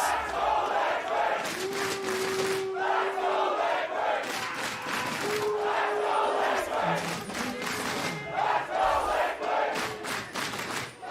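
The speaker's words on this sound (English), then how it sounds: "Team Liquid brings out the cheer squad" Team Liquid fans at a League of Legends esports match chanting and cheering in rhythmic group bursts, loud crowd voices rising and falling in repeated waves with sustained shouted tones.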